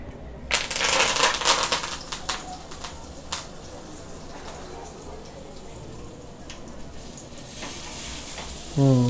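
A whole large pomfret fish sizzles as it fries on a tawa, a close, steady crackling with sharper spatters early on and faint background voices.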